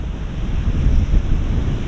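Sea waves and the incoming tide at Robin Hood's Bay, a continuous close wash of surf mixed with heavy wind buffeting the microphone, steady and fairly loud, with no voices.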